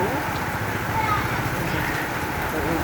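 Rain falling on a street, a dense steady hiss of drops that stays constant and fairly loud throughout, with no clear voices over it.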